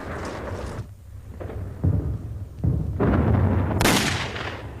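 A WWII bombing raid on US aircraft at Clark Field in the Philippines: loud booming blasts and bursts of gunfire follow one another, with a sharp crack near the end.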